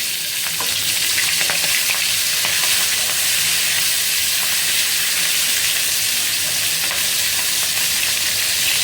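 Fish heads frying in oil in a pan on a home kitchen stove, a dense, steady sizzle and crackle running throughout, close and loud with occasional stirring scrapes.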